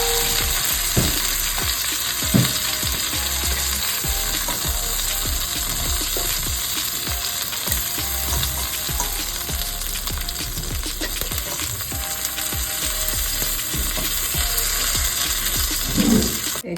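Browned oxtail meat sears in oil in a pot for a Jamaican-style dish, a loud continuous sizzle with repeated scraping stirs against the pot throughout, no talking.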